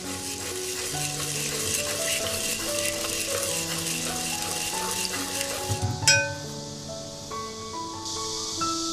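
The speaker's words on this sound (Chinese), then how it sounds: "咱给它搅拌均匀" Tomato rice ingredients with soy sauce and oil are stirred in a pan, giving a soft sizzle and scraping, then a sharp metallic clink near the end, with music playing throughout.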